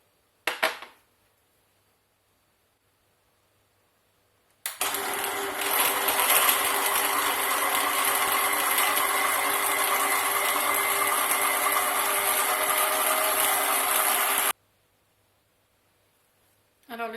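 A blender mixing pineapple with 100 ml of water into a smoothie, a loud, steady whirring roar lasting about ten seconds after a brief click, then stopping abruptly, close up.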